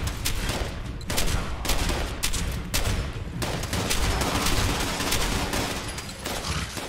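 Gunfire in the video game Fallout 76, including a shotgun, forms a loud, relentless, overlapping barrage of shots that stays dense throughout, with no pauses.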